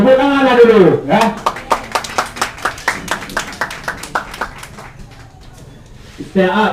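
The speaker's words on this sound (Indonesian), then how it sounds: "Tepuk tangan dulu, ya." Audience at an Aceh stand-up comedy show claps in a burst of separate, fairly close hand claps that thin out and fade over several seconds, with voices speaking before and after.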